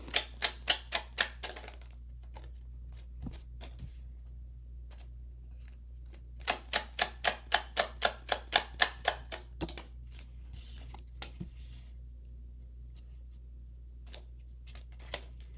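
Sharp rapid riffling bursts of cards being shuffled, two main runs of quick clicks with quieter taps between, close and crisp.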